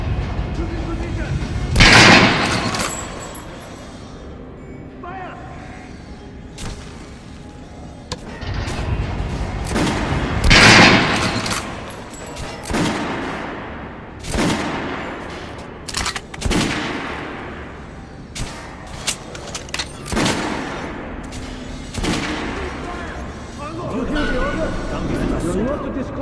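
Gunfire and heavy booms from combat in the video game Metro Exodus, loud bursts and sharp repeated shots spread through the stretch, with game voices talking between the blasts.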